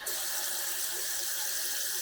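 Tap water runs through a Philips AWP3703 on-tap filter in a steady, close, even hiss of flowing water with no talk.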